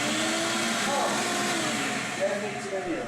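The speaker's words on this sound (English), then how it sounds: "After these seats are out, a little bit of vacuum action." A shop vacuum cleaning out the interior of an NB Miata with its seats removed, a loud steady whine whose pitch shifts slightly as the nozzle moves around.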